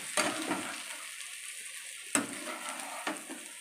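Fish roe masala being sautéed in a pan, a steady soft sizzle with occasional scraping stirs, close but quiet, with no voices.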